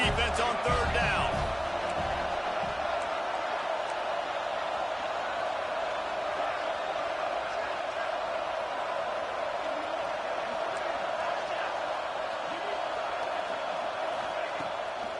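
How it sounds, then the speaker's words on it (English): A football stadium crowd roars steadily behind the defense on third down in a college game against Colorado, a broad sustained wash of cheering with a brief louder burst at the start. "Decibels rising as the crowd gets behind this defense on third down."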